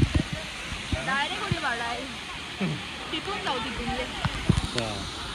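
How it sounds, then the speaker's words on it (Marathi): A monsoon waterfall at Malshej Ghat rushes with a steady broadband roar, and people talk excitedly over it throughout. "पहिला वॉटरफॉल"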